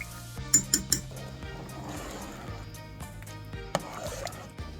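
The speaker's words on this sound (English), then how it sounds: "as I'm like stirring the soup, I got it where it needs to be, and it's just simmering" A spoon clinks against a pot while stirring Maltese brodu soup with pastina, a few sharp metallic taps and scrapes over a faint liquid swirl, close and quiet.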